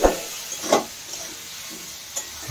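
Onion and pumpkin fry in oil in a pan for a pomfret curry, giving a soft, steady hiss broken by a few scraping stirs, close and fairly quiet, with no talk.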